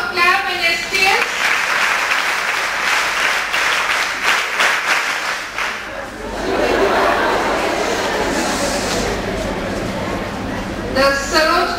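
A school prize-giving audience claps for a trophy runner-up, dense loud applause with crowd chatter and some laughter mixed in, swelling and settling before a brief voice at the end.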